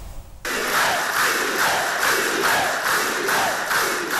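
Members of the Communist Party of Cuba rise in a standing ovation for Fidel Castro at a party congress, loud, dense applause and cheering from a large hall that starts abruptly and rolls on in steady waves.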